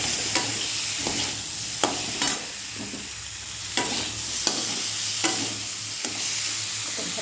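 Potatoes and prawns with dry red chillies fry in a pan for a dry chorchori, as a spoon scrapes through them in regular strokes over a constant close sizzle.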